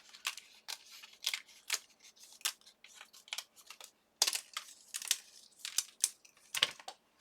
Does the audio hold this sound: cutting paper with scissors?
yes